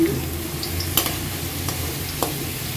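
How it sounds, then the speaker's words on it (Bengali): Potatoes frying in hot oil, giving a steady close sizzle and bubbling hiss, with a few faint clinks of a utensil against the pan. "আলুগুলো ভেজে নিলাম"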